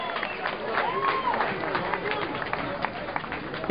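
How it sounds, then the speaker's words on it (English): Audience applause at a live DJ tribute show, a broad wash of clapping with crowd cheers and a whoop, fairly distant and steady under room noise throughout. "Give yourselves a round of applause, man."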